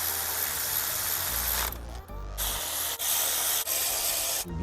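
Bolts being tightened on a 2018 Kia Forte engine during timing chain, camshaft and sprocket replacement, with a loud, steady hiss of rasping tool noise broken by brief pauses and clicks.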